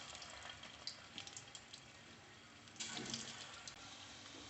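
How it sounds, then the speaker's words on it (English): Kofta balls made from bottle gourd dropped into hot oil and deep frying, a steady low fizzing and bubbling hiss that swells louder near the end with scattered crackles. "Now we have to deep fry them."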